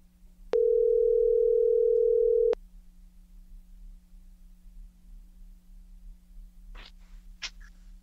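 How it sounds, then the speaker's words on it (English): A single steady telephone tone sounds for about two seconds while a call is placed, followed by a low hum and a couple of faint clicks. "Now, Jeff, let's see if we can get on the phone with Travis Thompson"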